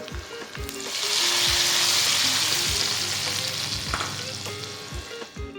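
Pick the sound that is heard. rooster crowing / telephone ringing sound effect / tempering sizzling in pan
tempering sizzling in pan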